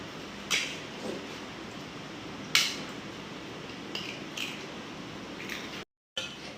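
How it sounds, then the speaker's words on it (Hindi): Eggs being cracked open into a bowl for a Spanish paratha give a few faint, sharp taps and clinks spread across a quiet kitchen background, followed by a brief moment of silence. "ये देखिए, हम सबसे पहले इसमें अंडे खोलेंगे अपने। जितने अंडे मैंने लिए हैं सारे इसके अंदर खोल लूँगी मैं।"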